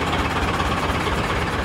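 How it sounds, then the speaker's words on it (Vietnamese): A 2011 Dongfeng Truong Giang truck with a 9.2 m cargo bed idles smoothly, giving a steady, close, even rumble with no talking. "Máy nổ rất là êm luôn"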